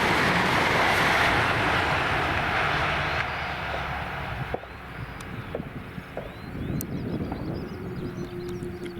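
A train passing Fenwick railway crossing, with a loud rushing roar up close that fades over several seconds into quieter rumbling, clanks and faint tonal sounds as it moves away.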